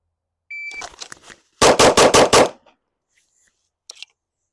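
Rapid string of five loud, close gunshots from a competition shooting run, preceded by a shrill electronic shot-timer beep and a few quieter clicks and handling noises, with a short faint tick near the end.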